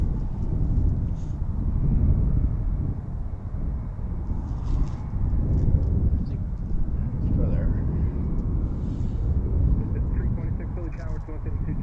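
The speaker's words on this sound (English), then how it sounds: "It's very windy out here today." Strong wind at Philadelphia International Airport buffets the microphone with a constant low, gusty rumble, with distant aircraft noise faintly mixed in.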